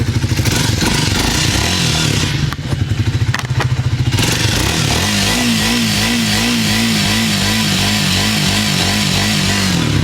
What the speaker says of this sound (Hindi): अब एक बार आपको प्रॉपर साउंड सुनवा देते हैं किस तरीके से।